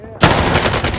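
Gunfire in Call of Duty Warzone on Rebirth Island cracks out loud and close, setting off a dense, rapid burst of shots that goes on for about a second.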